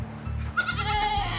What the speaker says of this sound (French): La chèvre, elle est avec toutes les autres chèvres.